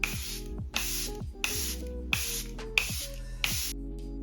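Six short bursts from a spray bottle, each a bright hiss with a sharp start, evenly spaced about every two-thirds of a second, close by.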